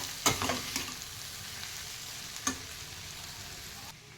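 Potato and cauliflower curry with amchur powder being stirred in a pan, a low continuous sizzle with a few scraping strokes of the spoon early on and one more midway, close and fairly quiet, no talking.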